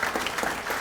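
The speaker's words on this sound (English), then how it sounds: "Another round of applause for them." Banquet audience applauding at a scholarship awards dinner, a short steady burst of many hands clapping filling the room at moderate level.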